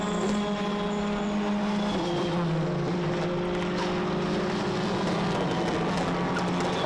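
TCR touring race cars, including a brand new Honda Civic, race at BalatonPark circuit during an endurance event, engines droning loudly and steadily with shifting pitch as cars pass close by, no talk.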